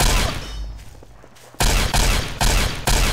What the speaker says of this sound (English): We got the laser rifle.